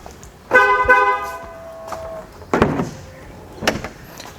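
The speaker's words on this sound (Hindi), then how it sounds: "अनलॉक करते हैं तो बजर की आवाज़ आती है" Hyundai Elite i20 warning buzzer sounding as the car is unlocked with a door left open, a sustained electronic tone near the start, followed by a few clunks from the locks and door.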